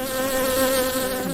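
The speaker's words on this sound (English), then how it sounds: "the few bees that were now flying in very close circle around his head" A steady, close insect buzz with a constant hum, like several bees droning nearby, continuous and fairly loud.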